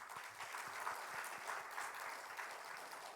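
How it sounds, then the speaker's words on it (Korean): A church congregation claps together in steady, dense applause during a Sunday worship service, a continuous patter heard from within the room without any talk. "우리 하나님께 감사와 영광의 박수 드리겠습니다"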